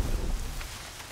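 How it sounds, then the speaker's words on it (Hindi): Steady rain hisses in Horizon Zero Dawn, a broad continuous wash of falling water with a heavier low rumble at the start, no voices over it. "यार बारिश हो रही है अभी."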